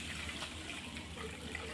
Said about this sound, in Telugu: ఇప్పుడు వాటర్ వేసుకొని